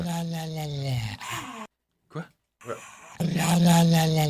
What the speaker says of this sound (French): Ah, un chien.